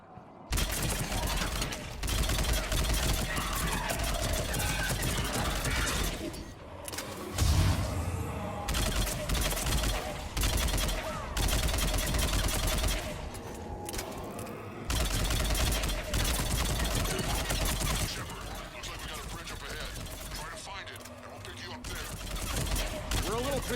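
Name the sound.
gunfire in a shootout, video game Mass Effect 3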